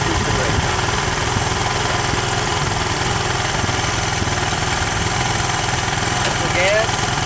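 An ATV engine runs loud and close throughout as the rider works the throttle and eases out the clutch, a steady rumbling drone with little variation.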